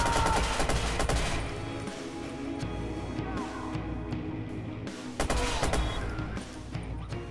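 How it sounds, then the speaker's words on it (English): Rapid turret gunfire in the video game Watch Dogs: Bad Blood, dense sustained bursts of shots with crashes, loud and continuous over a busy game mix. "let's activate this kind of turret"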